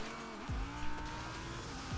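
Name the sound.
car handbrake skid in racing video game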